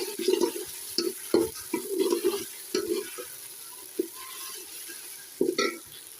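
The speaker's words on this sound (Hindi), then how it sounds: "अब इसके अंदर हम टमाटर और लहसुन अदरक का जो पेस्ट है वो डाल देंगे" Onions frying in a pan as tomato and garlic-ginger paste are added, soft sizzling with repeated stirring scrapes and splashes in uneven bursts, close and fairly quiet, no talk.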